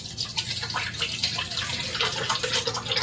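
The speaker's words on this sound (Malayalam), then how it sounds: "ഇനി കുറച്ച് വെള്ളം ഒഴിക്കും" Water is poured into a cooking vessel while making a rice-flour dish, a steady broadband splashing stream running continuously throughout, fairly close and moderately loud.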